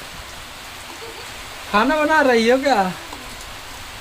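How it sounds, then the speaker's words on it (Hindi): Heavy rain falls steadily at a home, a constant broad hiss that runs through the whole stretch while a voice speaks over it briefly in the middle. "इतना तेज बारिश हो रही है"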